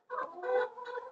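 Red laying hens cluck in short, close, repeated calls, three soft bursts in quick succession with no other sound around them.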